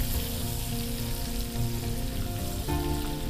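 Chicken pieces for chicken kondattam fry in a pan with garlic, giving a steady, close, dense sizzle that runs unbroken throughout with no talking.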